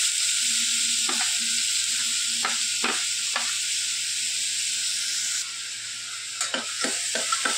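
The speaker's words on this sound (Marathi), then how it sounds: "कांदा थोडा फ्राय करून घेऊ आपण।" Chopped onion frying in oil inside a pressure cooker on a gas stove, giving a steady close sizzle with a few sharp stirring scrapes, quieter midway then picking up again near the end, with no talking.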